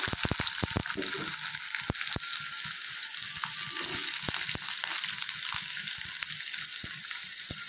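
Garlic, onion and ginger fry in a pan with a steady, close, loud sizzle, broken by scattered clicks and scrapes of stirring throughout.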